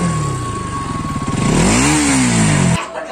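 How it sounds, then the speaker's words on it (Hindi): A Bajaj Pulsar NS 200 motorcycle engine revs up hard close by, its loud pitch climbing and then falling before cutting off abruptly, with no talk over it. "मेरे हाथों में आ चुका है नया बाइक NS 200।"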